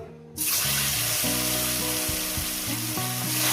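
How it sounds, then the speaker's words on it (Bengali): Pieces of rohu fish frying in hot oil for a fish curry with potatoes, a loud steady sizzle that bursts in after a short quiet moment and keeps crackling, with faint clinks and stirring mixed in. "এবার মাছগুলো এক এক করে আমি দিয়ে দেবো"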